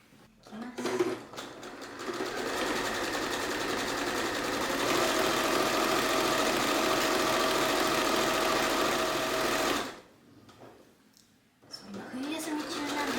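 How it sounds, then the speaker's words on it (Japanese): Sewing machine running steadily while a large, light, foldable bag is stitched, a continuous loud whir for about eight seconds with brief starts before and after, plus a short stop near the end. "ちょっと急いで縫っていきたいと思います"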